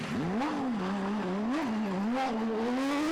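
A Porsche rally car in the GT category at the Belgian Spa Rally, its engine revving loudly and close, with pitch sweeping up and down through gear changes as it drives hard.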